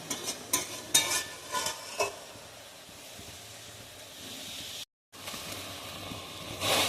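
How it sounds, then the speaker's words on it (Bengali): Prawn and taro stolon curry stirred in a pan, with a soft steady sizzle and scraping strokes that come in quick bursts early, then a quieter stretch of simmering hiss and a brief break before the frying resumes. "চিনি দিয়ে দিয়েছি। ভালোভাবে নেড়ে নেবো।"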